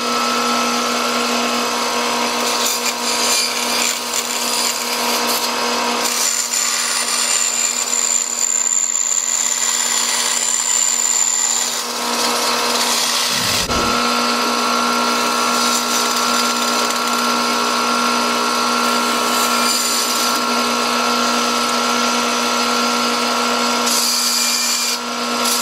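A power drill bores bolt holes in a custom license plate holder. A loud, steady high whine runs continuously with only one brief dip partway through, and no voices are heard.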